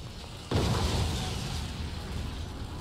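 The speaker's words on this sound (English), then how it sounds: "Whilst there's just explosions going on." Explosion in the Resident Evil 2 Remake video game: a sudden loud blast that hits hard and then settles into a sustained, rumbling roar lasting a few seconds.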